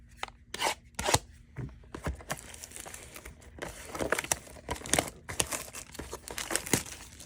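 Trading card blaster packs, 2024 Blue Donruss, are torn open close by, giving a run of crinkling foil and ripping bursts with brief pauses between tears and no voices.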